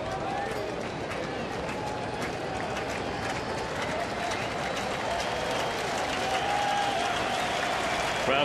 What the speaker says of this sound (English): Crowd trying to get behind Cueto to finish off Drew and the Diamondbacks in the 5th